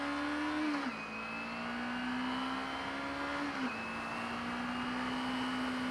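A Kawasaki Ninja 250R motorcycle engine revs high and steady, dropping briefly twice as quick gear shifts cut in, then climbing again, loud and close with no talking.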